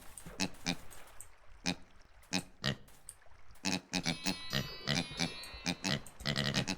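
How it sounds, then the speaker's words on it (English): Dozens of pigs oink and grunt in the Crafter video game, a steady run of short, loud squeals and snorts overlapping one another as more pigs crowd in. "We've got pigs. We've got so many pigs."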